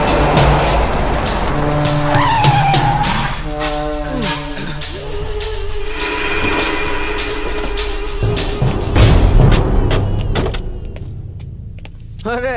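A car pulls away with tires skidding and squealing amid a busy film-scene soundtrack, with a loud engine surge and screeching tones layered over music and effects.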